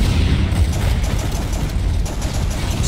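Heavy rumbling explosions in the video game Angels Fall First during a battle, a loud, dense low-end barrage of booms rolling together without pause for the whole stretch.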